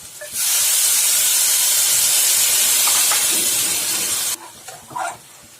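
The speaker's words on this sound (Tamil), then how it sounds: "அந்த புளியை வடிகட்டி ஊற்றிக்கணும்" Strained tamarind water poured into a hot pan for paruppu urundai kuzhambu gives a loud, steady sizzling hiss that holds for about four seconds, then cuts off sharply, leaving faint clinks and a brief stir.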